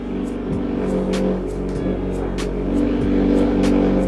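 A car engine drones loudly and steadily nearby with a low, rumbling hum and slight revving swells, and no one speaks over it.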